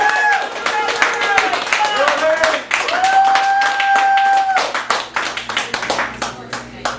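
Comedy club crowd at the Cafe Gallery in Chicago clapping after a stand-up set, sharp clustered handclaps that thin out toward the end while a voice speaks over the start.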